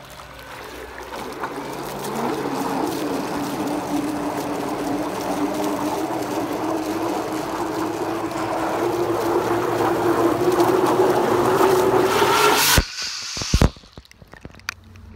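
Two Blue Robotics T200 underwater electric thrusters run at about 1200 watts combined with a steady, churning whir and bubbling water, rising slightly over time, then cutting out abruptly with a few splashy clunks near the end.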